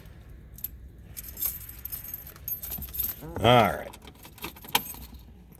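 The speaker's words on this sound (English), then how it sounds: "Grab the ignition key." Keys jangle and clink near the ignition of a 1965 Ford Mustang convertible with a 289 V8, with a burst of metallic rattling midway and a brief spoken word.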